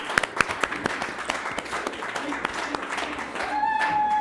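Audience clapping at an award ceremony, scattered individual claps from a small crowd, sharp and close, thinning out before a few voices and faint whistles at the end.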